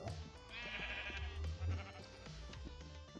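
Repeated sheep bleats from Minecraft sheep in a superflat world, several wavering calls overlapping at close range over a faint background, with no talking.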